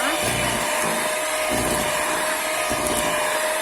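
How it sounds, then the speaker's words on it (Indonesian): An electric hand mixer whirs steadily through steamed sponge cake batter, a continuous close motor whine with a faint rattling against the bowl. "Ini kita mixer ya sampai rata."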